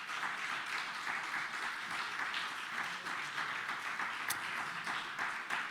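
A Spanish-speaking church congregation gives sustained, enthusiastic applause during a worship service, a steady, full crackle of many hands with no pauses and a brief bright ping near the end.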